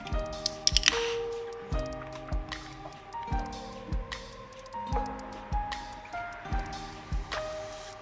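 A can of Verdant hazy pale beer is opened and poured into a glass, giving wet fizzing, squishing and dripping sounds close by, with a steady background underneath.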